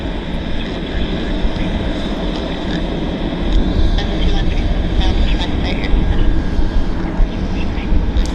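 A jet aircraft leaves the ramp area at Vancouver Airport, its steady broad engine roar holding loud and close for several seconds and swelling slightly toward the end.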